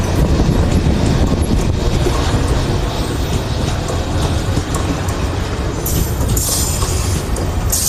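A train rumbles past close by, loud and continuous, with rattling wheels and clanking cars, and a brief hiss of brakes or air near the end.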